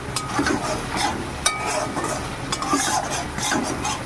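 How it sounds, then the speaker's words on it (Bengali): Masala for rui fish cooks in a pan, with repeated spoon scrapes and stirring strokes over a soft sizzle, close by, plus an occasional light metallic clink; no one speaks. "ঢাকা দিয়ে দিয়ে মশলাটাকে কষিয়ে নেব"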